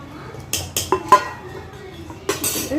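A metal lid set onto a pot of paruppu rasam on the stove, a few sharp clinks and clatters in quick succession, close and fairly loud, then a final rattle as it settles.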